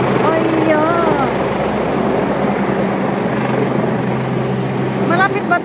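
A helicopter flies overhead near the Wan Chai waterfront in Hong Kong, a loud steady rotor drone with engine whine that holds throughout, while people talk beneath it.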